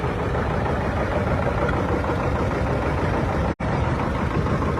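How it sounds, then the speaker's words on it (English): A 1950 John Deere D tractor engine runs at a parade, a loud, steady low rumble that holds constant with a single brief dropout near the end. "Ed Gary has a John Deere D from 1950, still in use."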